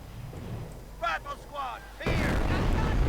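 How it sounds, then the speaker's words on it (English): Mortar rounds firing and impacting a building in a Company of Heroes 1v1 match, with a sudden heavy rumbling blast that sustains after a short stretch of voice-like sound and quieter battle noise. "Mortar rounds flying at the building, but not really doing much either."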